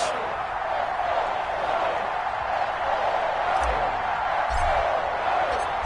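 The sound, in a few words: crowd cheering in EA Sports football video game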